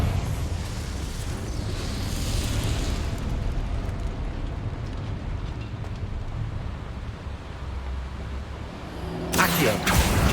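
A Confringo fire spell goes off in Hogwarts Legacy, giving a long, loud rumbling blast with a roaring wash that lasts several seconds and ends in a sharp crackle. A voice is heard partway through.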